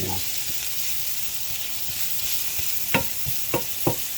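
Squash pan-roasting on an electric stove set to about medium, giving a steady close sizzle and fry hiss throughout, with a few sharper pops and crackles toward the end.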